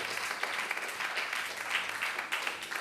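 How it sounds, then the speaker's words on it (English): Steady audience applause at a public health meeting on eliminating filaria, a dense wash of many hands clapping at moderate volume throughout, with no voices over it. "You should give yourself a big round of applause for that."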